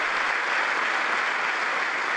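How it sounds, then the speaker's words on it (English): Sustained applause from a large audience at Netanyahu's speech to Congress, a dense, steady wash of clapping that holds at even loudness throughout, with no voices breaking through. "I left the applause at the very end."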